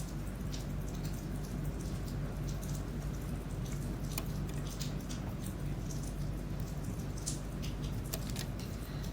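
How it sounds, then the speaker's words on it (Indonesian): Heavy, steady rain pours down throughout, a dense hiss of drops striking surfaces with scattered sharper patters and no voices. "Hujannya iya dari tadi guys, hujan tapi tadi lebih parah."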